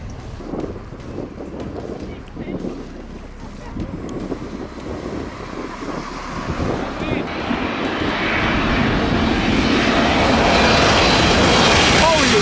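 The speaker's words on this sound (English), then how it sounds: "Observing aircraft up close is always an impressive experience, but maintaining a proper distance remains a principle that should not be overlooked." A propeller aircraft at a runway, its engine drone rising steadily in loudness as it draws near, with wind buffeting the microphone throughout.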